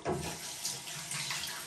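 Water runs from a bathroom tap into a sink while a face is rinsed of cleansing gel, a soft close splashing stream with small surges, brief and quiet, with no speech.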